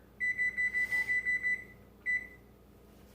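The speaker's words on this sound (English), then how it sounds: "I'm going to set my timer" A kitchen timer being set for a low-carb pizza crust, giving a quick run of about ten sharp electronic beeps, a pause, then one more beep, close and clear over a quiet room.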